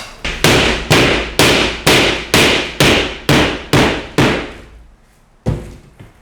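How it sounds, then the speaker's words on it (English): Loud, evenly spaced hammer blows ring out close by during drywall repair work, about ten strikes in a steady rhythm, then a pause before one final hit. "You get a hammer."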